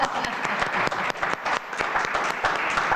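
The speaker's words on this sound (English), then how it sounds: "We got to clap for that." Dense, continuous applause from a village board meeting audience, many hands clapping steadily and loudly throughout with little variation.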